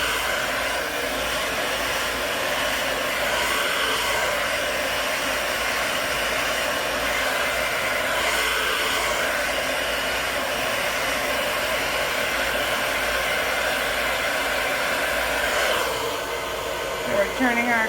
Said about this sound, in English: So we're turning our round brush as we dry.